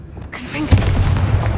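Confringo explosive spell cast in Hogwarts Legacy, a single sharp booming blast that rises suddenly and rolls on into a dense rumbling crackle, loud and close.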